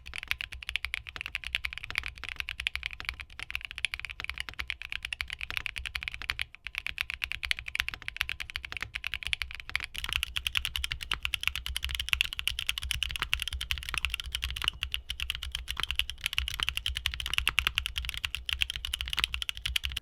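Steady, close typing on a mechanical keyboard fitted with TTC Venus linear switches, a dense continuous stream of keystrokes with a fairly high-pitched clack, alone without talk.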